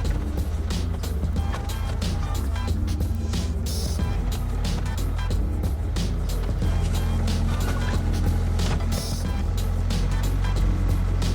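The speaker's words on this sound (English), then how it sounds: "sort through it with the Bobcat" A Bobcat skid steer working in an old gravel pit, its diesel engine droning steadily while rock scrapes and clatters in short bursts, with the machine moving material close by throughout.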